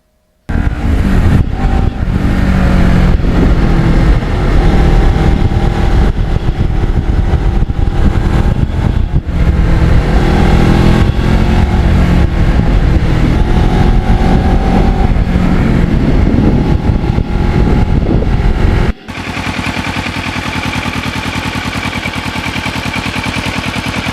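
A Kawasaki Ninja motorcycle rides along wet roads, its engine drone steady and close beneath strong road and wind rush, with scattered sharp knocks, then a sudden drop to a quieter steady hum near the end.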